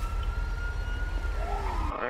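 A siren wails in the distance in the video game GTA V, a rising tone sweeping upward near the end over a steady low rumble.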